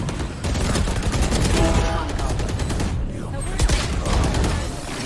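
Rapid gunfire rattles from a video game in loud sustained automatic bursts with short gaps, and a voice is partly audible underneath.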